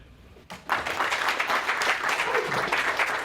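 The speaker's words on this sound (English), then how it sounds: "Huge warm round of applause." Warm applause from a live audience welcoming a speaker, starting abruptly after a brief quiet moment and then holding as a dense, steady wash of clapping to the end.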